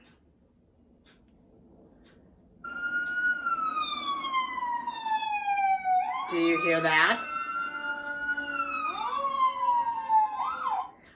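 A fire department siren starts after a brief spoken question and wails loudly and steadily, sweeping down and up in long glides, close and dominant.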